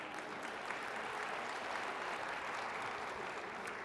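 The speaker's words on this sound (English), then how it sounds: "You can clap for that. That's a good clap there." An audience at a workforce event claps together in an even, continuous patter, heard at a moderate distance with no talking over it.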